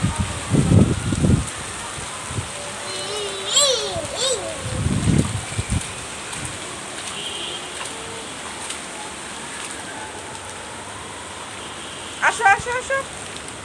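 Steady rain hisses on the ground while a child splashes through puddles in several bursts. A child and an adult talk and call out over the rain.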